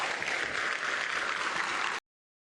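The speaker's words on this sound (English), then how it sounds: "the crowd is going absolutely wild here" A crowd at an athletics track meet in Perth cheers and applauds, a dense, loud wash of clapping and roar that holds steady for two seconds before cutting off abruptly.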